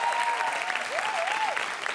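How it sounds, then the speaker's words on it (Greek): TV studio audience claps steadily for a couple of seconds, a dense, even wash of applause with a voice speaking over it. "Ένα χειροκρότημα στην Αγγελική που τα καταφέρνει όλα"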